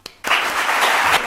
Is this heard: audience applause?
yes